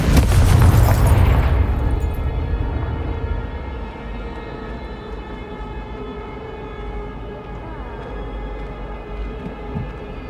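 A Confringo fire spell blast in Hogwarts Legacy, a loud booming explosion at the start that trails off into a long, steady humming tail.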